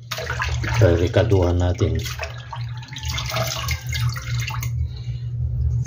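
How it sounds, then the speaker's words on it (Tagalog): Vinegar pours over dried, salted tilapia set to soak, a steady liquid splash running under a person speaking nearby. "Ibabad natin sa suka."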